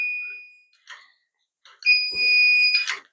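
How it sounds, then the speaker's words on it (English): A powder check alarm on a reloading press sounds for an overcharged cartridge case: a brief electronic beep, then a sharper two-tone alarm tone with small mechanical clicks around it. "this should activate the alarm again"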